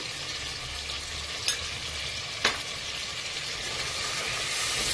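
Turmeric and coriander powder are stirred into a hot frying pan under a constant hissing sizzle, with two sharp metallic scrapes of the spoon against the pan partway through.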